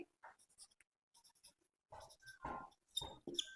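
A pen scratches across paper in short, close, quiet strokes, several separate bursts with pauses between them and no talking.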